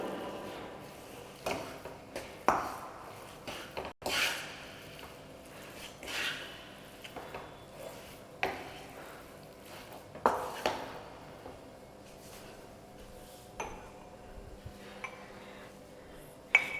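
A large spoon stirs tangy gongura chutney being made with crushed garlic, giving faint, scattered clinks and scrapes against the pot at irregular intervals in a quiet kitchen.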